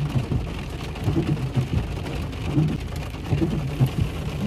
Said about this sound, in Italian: sta iniziando tipo a diluviare, a grandinare